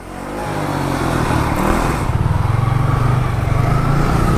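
A motorcycle ridden by a small child, its engine note rising steadily from idle into a sustained, close revving drone that builds and holds with a pulsing, throbbing texture, no voices over it.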